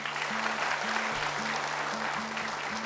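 Audience applause at a televised Quran recitation talent show, dense continuous clapping filling the whole moment, with a low sustained musical tone underneath and no speech.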